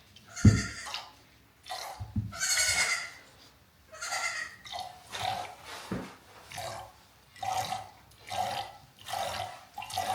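A goat giving birth without assistance lets out a series of close, strained bleats, about a dozen spaced calls in an uneven rhythm with quiet pauses between them.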